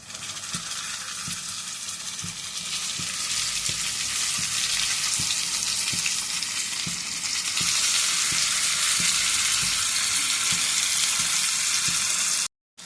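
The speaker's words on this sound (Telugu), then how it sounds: "ఇప్పుడు మసాలా పెట్టుకున్న వంకాయలు వేసుకుందాం" Masala-stuffed eggplants fry in hot oil with tempered spices in a pan, a loud steady sizzle with faint rhythmic taps of a utensil, growing slightly louder partway through before cutting off abruptly.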